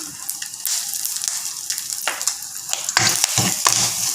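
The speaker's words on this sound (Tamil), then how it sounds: "கடுகு நல்லா வெடிக்குது." Mustard seeds crackle and spatter in hot oil, a busy stream of sharp pops over a steady sizzle, close and fairly loud.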